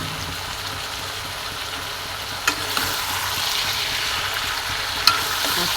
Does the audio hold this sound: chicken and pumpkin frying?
yes